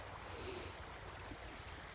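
Sea waves wash steadily onto a beach on a fair autumn day, a soft continuous surf with low wind rumble, faint and distant, with no voices.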